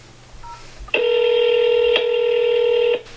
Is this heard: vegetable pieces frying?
no